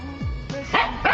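A puppy gives three short, sharp yipping barks in quick succession, close by and moderately loud, with a faint whine between them.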